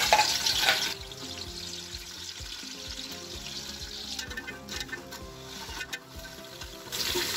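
Onions, green cardamom and green chilies hit hot oil with a sharp initial crackle, then settle into close sizzling frying mixed with scraping stirring sounds.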